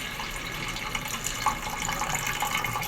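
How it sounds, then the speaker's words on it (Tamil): Water poured into a pan of fried field beans (thattai payaru) being cooked for a Tamil curry, a steady close splashing pour running throughout with no talking. "இது வேக வைக்கிற தேவையான தண்ணி ஊற்றிக்கிடுவோம்ப்பா"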